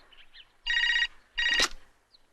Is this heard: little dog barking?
no